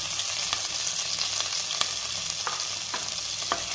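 Onions, green chilies and curry leaves fry in a pan with a steady, close sizzle, broken by occasional sharp clicks and scrapes of stirring; no voices.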